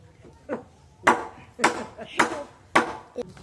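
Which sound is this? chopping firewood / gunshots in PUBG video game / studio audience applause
chopping firewood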